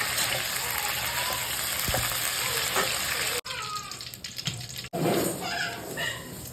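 Eggplant sautéing in oil for kara kuzhambu gives a constant close hissing sizzle. It breaks off sharply twice before resuming with some scraping and stirring noises.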